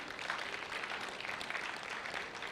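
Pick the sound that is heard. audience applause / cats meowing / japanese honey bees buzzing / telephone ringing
audience applause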